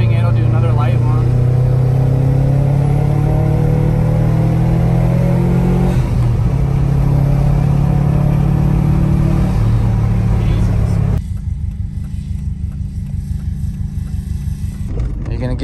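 A Subaru GC8 car with a swapped-in used engine revs in a deep, rumbling rise and fall. People talk over the engine throughout, and the noise drops off sharply near the end.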